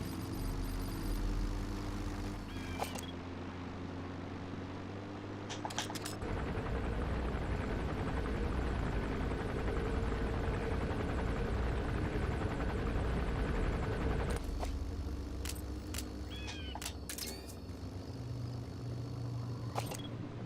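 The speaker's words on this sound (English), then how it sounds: "The chopper will be arriving any minute." A helicopter arriving in the video game Metal Gear Solid V: The Phantom Pain, a steady dense rotor and engine roar that holds throughout, with brief clicks and interface blips cutting in.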